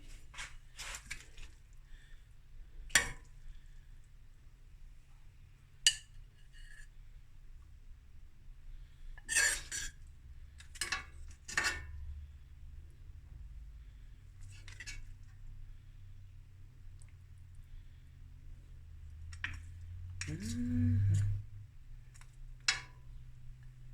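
Stir-fried rice and mussels dished up with metal utensils, giving scattered scraping and clinking taps against a pan and plates, spaced a few seconds apart at moderate level with a low background hum.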